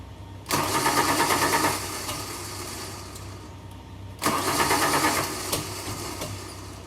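A 1992 Ford Falcon EB is cranked twice, each burst a loud whirring churn lasting about a second that settles into a lower running rumble, close and clear with no talking.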